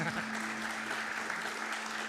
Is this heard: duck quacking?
no